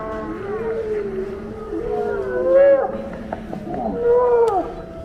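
Recorded gray seal vocalization played at a museum exhibit: long wavering moaning calls rising and falling in pitch, several drawn-out wails in a row over a faint room hum.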